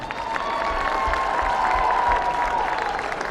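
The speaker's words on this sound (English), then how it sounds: "One more round of applause for the Yellow Jacket Hall of Fame distinction class of 2000." A crowd at a women's college basketball game applauds a Hall of Fame class steadily, dense clapping filling the gym for a few seconds, with a faint tone and some cheering mixed in.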